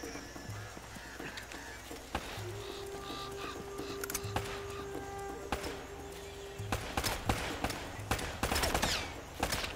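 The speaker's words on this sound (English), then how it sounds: "Oh, I'm under heavy fire." Enemy gunfire in an Uncharted 3 shootout, several guns firing: scattered sharp shots and short bursts over a low rumbling game backdrop, sparse at first and growing denser and louder toward the end.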